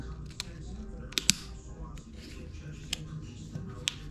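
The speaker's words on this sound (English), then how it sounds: "A little difficulty cutting the hard plastic, but these scissors will do it." Scissors cut through a hard plastic seedling pot during cucumber transplanting, with several sharp, isolated snips and clicks spaced irregularly over quiet room noise.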